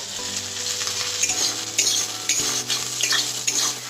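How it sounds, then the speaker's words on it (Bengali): Carrots and peas fry in a pan while a metal spatula stirs them, making a close sizzle with repeated scraping clinks against the pan in an uneven rhythm. "আমার গাজরটা হালকা হালকা ভাজা হয়ে এসছে। আমি এবার মটরশুঁটিগুলো দিয়ে দিচ্ছি।"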